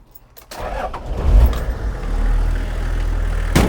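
A Toyota Land Cruiser HJ45 with an H diesel engine cranks and fires up under an open bonnet, the starter whir giving way to a loud, rumbling diesel idle that settles into a steady clatter.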